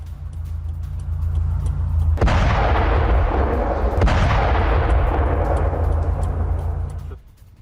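A drone strike on a plant: a loud, deep blast erupts and rumbles on, a second boom following a couple of seconds later before the roar fades out.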